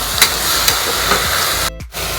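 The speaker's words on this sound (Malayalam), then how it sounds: "അതും കൂടി ചേർത്ത് ഇതൊന്ന് നന്നായിട്ട് വഴറ്റും." Fresh curry leaves are sautéed for beef kurma, giving a loud, close sizzle cut by a few quick scraping stirs, which drops off sharply near the end.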